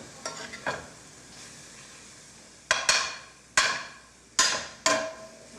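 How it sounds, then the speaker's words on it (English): Dried parsley stirred into a pot, a few sharp scraping and knocking strokes of a utensil against the pot, loud and close with short pauses between them, no voices. "let me stir that dried parsley down into this thing that we got here"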